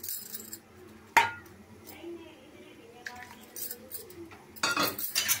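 A spoon clinks and scrapes against a metal pot while garam masala is mixed into chicken, with sharp knocks and light scraping throughout, louder clatter near the end, and a voice talking faintly underneath.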